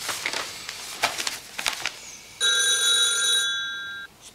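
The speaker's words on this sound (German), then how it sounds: "Herr Spannhacke, für Sie Telefon." An old-style electronic telephone bell rings in an office setting, a steady multi-tone trill lasting over a second after some brief clatter and movement sounds.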